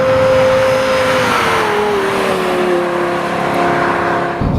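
Lexus LFA supercar engine while driving, a loud, high, smooth tone that eases down in pitch as the car cruises, continuous and close throughout.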